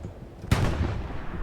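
A single sharp sniper rifle shot in the video game Hell Let Loose, a sudden loud crack followed by a short decaying rumble, heard alone against low background noise.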